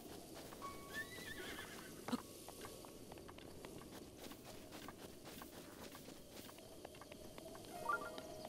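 Horse neighing in the video game The Legend of Zelda: Breath of the Wild, a couple of short whinnies at moderate distance over a steady outdoor ambience with faint clip-clop.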